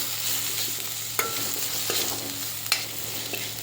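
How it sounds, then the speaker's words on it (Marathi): Coriander powder and turmeric stirred and frying in a pan, with a steady soft sizzle and a few sharp scraping clicks of the spoon against the pan, alone and close. "याला सुद्धा आपल्याला छान मिक्स करून घ्यायचं आहे, भाजू द्यायचं आहे."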